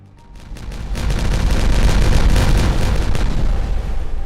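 Explosion in the beaver colony-building game Timberborn, a loud rumbling blast that swells quickly and holds as a dense crackling roar for several seconds, close and alone.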